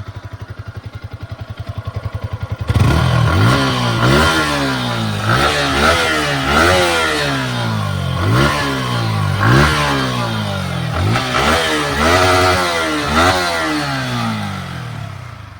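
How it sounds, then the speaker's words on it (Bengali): A Yamaha MT-15 V2 motorcycle with a liquid-cooled engine idles briefly, then its exhaust revs repeatedly in sharp rising bursts that drop back between throttle blips, close and loud with no voices. "একবার আমরা এক্সজস্টের সাউন্ড শুনে নেব।"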